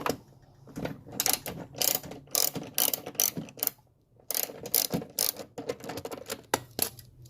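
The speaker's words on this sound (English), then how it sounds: "I go get the 12 millimeter socket." A ratchet fitted with a 12 mm socket works a valve cover bolt on a 2014 Toyota Tacoma PreRunner V6. It gives close, rapid bursts of metallic clicking, with a brief pause about halfway through before the clicking starts again.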